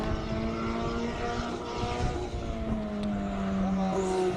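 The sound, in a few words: Mercedes-Benz A45 four-cylinder turbo race car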